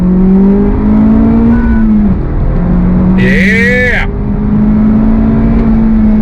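A 2023 Honda Civic Type R accelerates hard in second gear, its engine note rising steadily and loud from inside the cabin, briefly dipping at a shift before climbing again, with a short spoken word over it.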